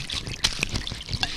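Brandy poured from a bottle onto the ground, a short trickling dribble of liquid with a few brief splashy bursts, close and fairly quiet, with no talk.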